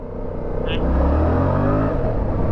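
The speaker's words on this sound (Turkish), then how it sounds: "Abi ara gaz vereyim mi?" Engine of a Bajaj Boxer motorcycle on the road, a steady low drone that swells as the throttle opens, with a brief tone near the start and no talk.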